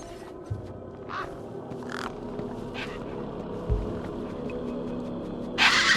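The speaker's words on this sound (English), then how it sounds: "One particularly large and familiar bird stood out from the rest." A large crow-like bird caws a few times over a steady ambient hum in the Beyond A Steel Sky game world, with short bursts spread through the scene and a brighter noisy rush near the end.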